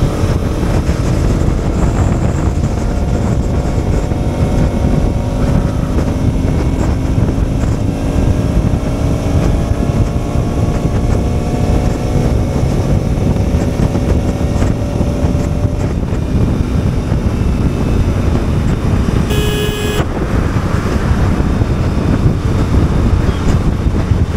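Bajaj RS200 motorcycle accelerating hard on the road, a steady engine drone with rising pitch sweeps through the gears under heavy wind rush, continuous and close for the whole stretch.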